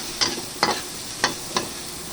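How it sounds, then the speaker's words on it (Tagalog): Ginger sautés in a pan with four distinct scraping stirs at irregular intervals over a soft, continuous sizzle, close and moderately quiet. "Ating sutay lang muna natin ang ating luya."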